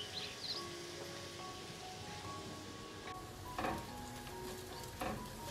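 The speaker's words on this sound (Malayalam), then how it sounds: "എല്ലാം നന്നായിട്ടൊന്ന് വഴറ്റിയെടുക്കാം." Onions sizzling in a pan as they are sautéed for a fish molee gravy, a steady close crackle with a few louder stirring scrapes near the end.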